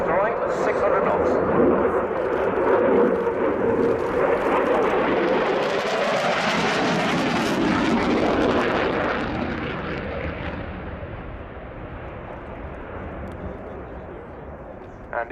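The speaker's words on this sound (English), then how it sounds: "accelerating now for reheat for the high-speed pass, left to right at 600 knots" A Royal Air Force Eurofighter Typhoon FGR4 accelerates in reheat for a high-speed left-to-right pass at an airshow display. A loud, broad jet roar swells, peaks and slowly fades as the aircraft passes.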